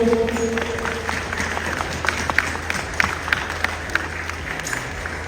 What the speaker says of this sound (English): Can we have the biggest round of applause?